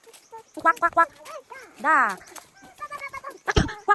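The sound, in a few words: ducks quacking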